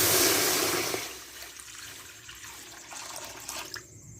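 Water pours into a wok to boil pasta in a home kitchen, a loud gushing splash at the start that quickly settles into a softer trickle and faint drips.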